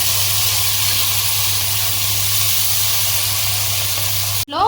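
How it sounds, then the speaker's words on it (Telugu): Onions, finely chopped green chillies and tomatoes fry in a hot pan for a biriyani, a loud, continuous sizzling hiss up close, ending with a brief clatter as something is stirred or added. "దీంట్లోనే సన్నగా కట్ చేసుకున్న పచ్చిమిర్చి అలాగే టొమాటోస్ కూడా వేసి బాగా ఫ్రై చేసుకుందాం"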